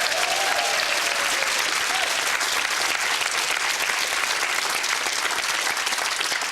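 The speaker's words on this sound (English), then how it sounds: "A big round of applause for the first one, please." A game-show studio audience applauds steadily, sustained clapping from many hands filling the whole stretch, loud and dense with a brief cheer at the start.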